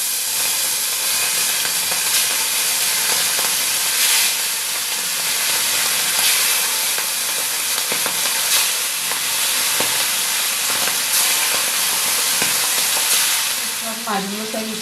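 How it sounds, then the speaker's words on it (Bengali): Hilsa fish pieces, rubbed with salt and turmeric, fry in hot oil with a loud, steady sizzle and hiss throughout, while occasional stirring clinks come through near the end. "এবার এক একটা করে পিস মাছগুলো আমি ভেজে নেব।"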